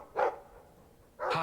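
A dog in a fantasy role-playing game lets out two distinct barks about a second apart inside a home at night, close and loud against a quiet room.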